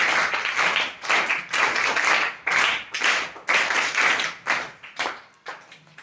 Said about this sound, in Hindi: एक बार जरा जोरदार ताली बजा दो।